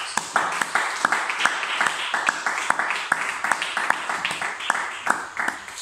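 A church seminar audience breaks into loud, sustained applause with dense rapid clapping that continues throughout, close and enthusiastic.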